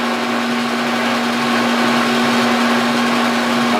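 Steady, loud machining drone with a constant hum as a machine takes a light spring cut on a stroked spline, oil applied, continuous and close with no pauses.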